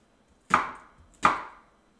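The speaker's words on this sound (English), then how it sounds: "Rough chop again." Two sharp knife chops through vegetables on a cutting board for a chicken noodle soup, each a crisp thud with a short fading tail, spaced about 0.7 seconds apart, close and clear with no talking.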